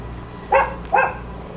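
A dog barks twice, close by, with a short pause between the sharp barks, against quiet background hum.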